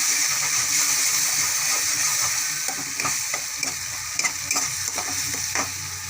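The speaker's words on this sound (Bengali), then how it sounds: "দিয়ে এবার মশলাটাকে আমি ভালো করে কষিয়ে নেব।" Spice masala with salt and cumin powder fried and stirred in a pan, a continuous close sizzle with repeated scraping strokes of the spoon and no voices.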